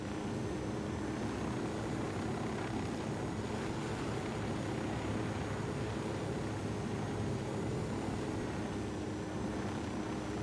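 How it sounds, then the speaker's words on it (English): A helicopter pursues in a Ghost Recon game set in Bolivia, its rotor wash a steady, muffled roar that hangs at a distance and stays constant throughout, with no voices. "how anyone misses the fact that they have a chopper on their tail is another thing"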